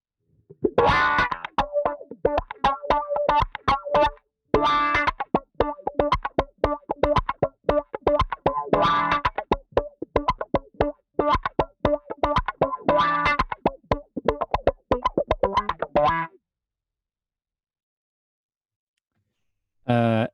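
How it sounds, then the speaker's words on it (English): An electric guitar plays a rapid run of picked notes through a manually swept wah pedal, with short breaks between phrases, then a long silence near the end. "So this is the wah on, not the envelope filter, which is the automatic setting that it has."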